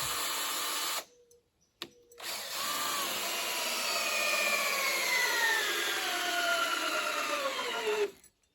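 A power drill drives screws into a wooden post-and-beam frame for a sauna build, with a short burst, a pause and a brief tap, then a long whining run that rises in pitch before stopping.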